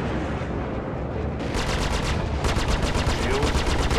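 Rapid bursts of gunfire pelt a spaceship's shields in a space combat game, flying the Sabre, building into dense repeated impacts, loud and close, with voice callouts mixed in.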